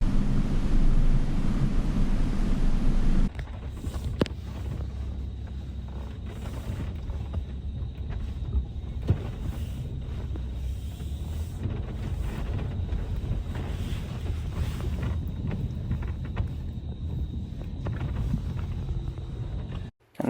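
A Land Rover wades through deep water, heavy sloshing and churning with steady wind buffeting the microphone, loud at first and then continuing at a lower, even level until it cuts off abruptly.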